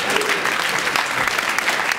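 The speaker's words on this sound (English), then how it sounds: "Oh, you're horrible for clapping that." Dense, steady clapping from a comedy club audience at a stand-up show, loud and close, sustained throughout with no break.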